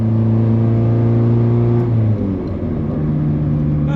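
A car with a MaXpeedingRods turbo on a 1.5 liter engine pulls away with a loud, close engine drone. The pitch drops abruptly around a gear change, then settles into a steady hum with no voices.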